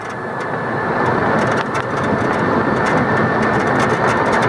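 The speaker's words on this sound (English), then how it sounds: "This is full throttle acceleration, going up a slight grade." A Morgen 3Eman vehicle pulls at full throttle up a slight grade, a loud, steady droning engine roar with rumbling low end that builds slightly and holds without speech.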